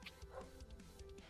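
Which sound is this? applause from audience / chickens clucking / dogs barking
dogs barking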